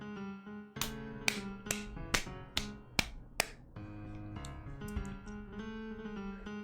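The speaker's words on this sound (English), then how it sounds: "It was the crisp sound of the witch applauding." A witch applauds in the visual novel Umineko: about seven crisp, sharp hand claps ring out one after another at an even pace over a soft, sustained musical backing, with no voices.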